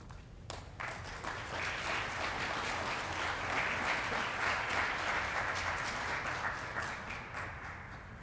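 Audience applause fills a hall of fame ceremony for university athletics, steady sustained clapping from a sizable crowd after a presenter is introduced, with no talking over it.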